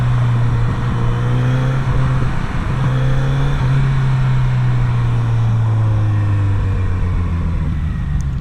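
A Kawasaki Z900RS motorcycle engine drones steadily with a low, throbbing hum, its pitch rising and falling through a few gear changes as it rides along.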